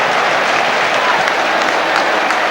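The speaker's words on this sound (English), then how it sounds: "A few applause from the home supporters." Home supporters in a football stadium give a spread-out round of applause, a dense wash of clapping from a large crowd at steady loudness.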